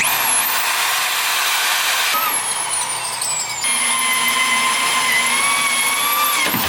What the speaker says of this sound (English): I was just so afraid of drilling this tank. This is acrylic and I never drilled a fish tank before